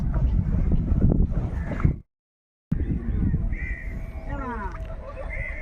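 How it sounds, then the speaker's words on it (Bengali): A boat moves along a Sundarbans river at high tide on a net-fishing trip, giving a steady low rumble of engine and water that breaks off briefly and then returns, with crows cawing and birds calling over it. "চলেছে নৌকা আমাদের"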